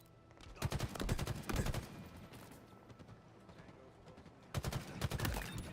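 Rapid bursts of gunfire from a Halo multiplayer match, loud clusters of shots at the start and again near the end with a quieter stretch of scattered fire between.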